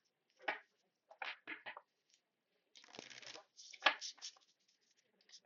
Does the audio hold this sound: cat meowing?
no